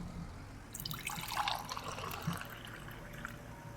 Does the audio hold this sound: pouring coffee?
yes